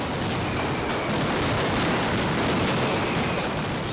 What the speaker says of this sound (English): Hundreds of pounds of maroons are set off within a few minutes.